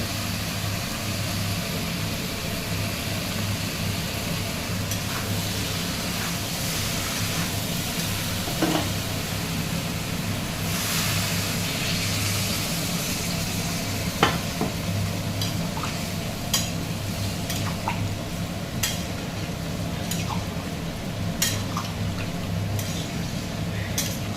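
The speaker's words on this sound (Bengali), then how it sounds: "এর মধ্যে দিয়ে দেবো জল" A pan of sautéed jackfruit and prawn curry sizzles and bubbles steadily as water goes in, with occasional stirring clinks and scrapes, close and continuous throughout.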